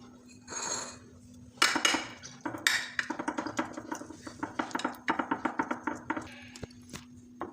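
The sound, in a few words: spoon pressing dry fruits into banana barfi in a dish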